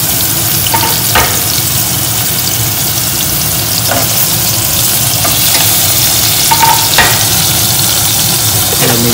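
Tomatoes added to golden fried onions hiss and sizzle in a pan with a steady, loud frying noise and occasional stirring clicks, with no voices.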